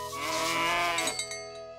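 A cow on a farm gives a single sustained, wavering low call that fades away, with a clear ringing tone sounding alongside it near the end.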